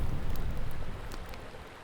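Steady broadband rushing of the Vjosa river flowing, close and full, a dense wash of water noise that eases slightly after the first second.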